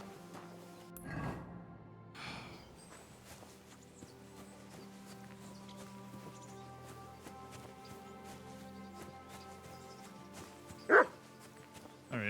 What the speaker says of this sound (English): Barking. It's coming from over there.